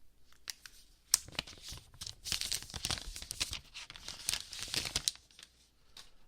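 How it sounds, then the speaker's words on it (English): Plastic wrap crinkles and tears off a new OnePlus 7 Pro phone in Nebula Blue, a close, quiet run of irregular rustles and sharp crackles with no talking. "So let's go ahead and unwrap it here."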